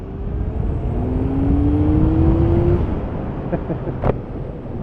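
A 1979 Honda CBX1000 motorcycle engine revs up to about 5,500 to 6,000 rpm with a rising whine under heavy wind rumble, easing off after a few seconds, with a brief sharp click later.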